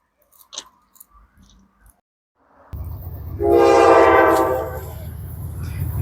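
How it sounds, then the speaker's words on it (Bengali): A long train rushing past fast through rural Egypt, starting with faint scattered clicks before a loud rumble takes over and a blaring horn sounds for about a second, the roar continuing close by. "এই যে বন্ধুরা দেখেন একটা ট্রেন আসলে মিশরের ট্রেনটা খুব দ্রুত গতিতে যাচ্ছে"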